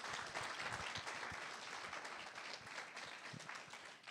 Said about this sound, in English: So can we give our teachers a round of applause?